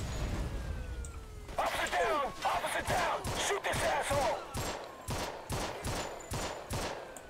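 Automatic weapons rattle in the mob shooter Mafia II, first in a brief spray, then in a string of evenly spaced sharp shots with whooshing impacts, fairly quiet overall.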